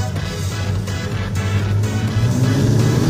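Sprint race cars roar together at the start of a 50-lap A-Main feature, a dense, loud, steady engine drone that builds slightly as the field gets underway, with crowd and track noise mixed in.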